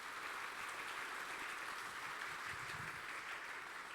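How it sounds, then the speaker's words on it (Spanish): A church congregation claps together during a Spanish-language sermon, a dense, even roar of applause held at a steady, moderate distance throughout. "dale un fuerte aplauso al Señor"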